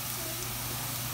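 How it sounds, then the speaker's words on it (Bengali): Green beans dropped into a hot pan with browned onion give a steady, fairly faint hissing sizzle throughout the brief moment, with no voice over it. "শিমগুলো দিয়ে দিলাম, এখন আমি শিমেতে নাড়া দিব।"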